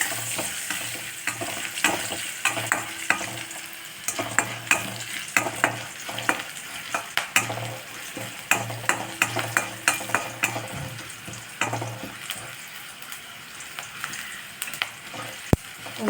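Green chilli and ginger fry in hot oil with turmeric, a steady close sizzle broken by repeated sharp scrapes and taps of a spoon stirring against the pan, with no voices.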